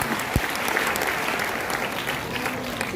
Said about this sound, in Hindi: अच्छा लगे तो ताली बजा दो, एक बार मेरे कहने से बजा दो